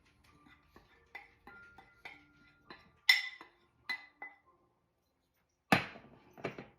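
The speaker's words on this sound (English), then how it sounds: "And stir that up well" Spoon stirring flour into hot churro dough in a pot, a series of irregular scraping clinks and knocks against the pot, with a couple of louder metallic strikes, close up and without talk.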